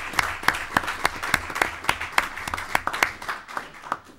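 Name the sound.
audience clapping, applause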